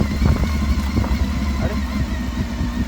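A motorcycle rolls in first gear along a narrow, rough road, its engine a close, steady low drone with small bumps and rattles scattered through it.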